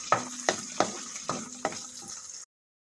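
Pork being stirred back into browned ground pork in a pan for tokwa't baboy, a soft sizzle broken by five sharp scraping clacks of a utensil against the pan, then silence.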